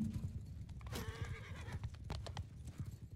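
A horse in the Bannerlord Online PvP battle game lets out a loud neigh over the steady clip-clop of galloping hooves, with the hoofbeats continuing throughout.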